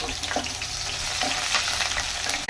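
Cumin and mustard seeds crackle in hot oil, with onion going in for a white brinjal curry. A continuous close sizzle carries light stirring scrapes, and there is no talking.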